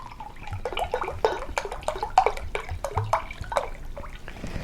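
Mountain Valley spring water poured into a cup, with a run of uneven splashing and trickling that stays close and fairly quiet throughout, no voices over it.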